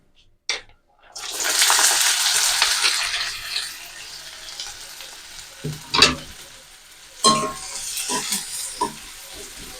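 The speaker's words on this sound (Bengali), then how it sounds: "তেলের মধ্যে দিয়ে দেবো পেঁয়াজ কুচি।" Chopped onion dropped into hot mustard oil in a heated wok for a meat chop filling, a loud, close sizzle that bursts in after a short clatter and hisses steadily, then scraping and stirring clatters toward the end.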